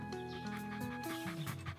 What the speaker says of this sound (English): You remember my friend's puppy, don't you, Caillou?